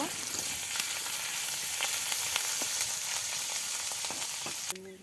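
Chopped onion and garlic paste sizzle and crackle steadily in oil in a pan, with scattered pops and a soft stir near the end.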